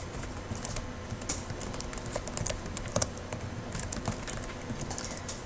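Quiet, steady clicking of fingers typing on a computer keyboard, a continuous patter of close key presses with no voices.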